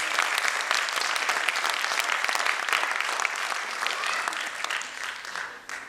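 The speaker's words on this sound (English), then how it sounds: "Please give them a huge round of applause." Sustained audience applause fills a school annual concert, steady and dense throughout with a slight fade toward the end.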